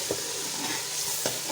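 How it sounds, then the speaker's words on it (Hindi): Peas sizzling and frying in a pan, a steady close hiss with a few soft scrapes of a spoon stirring through them, brief and continuous with no talking. "मेरे मटर देखिए ये सारे वो भून गया है"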